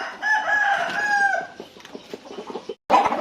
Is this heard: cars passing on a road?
no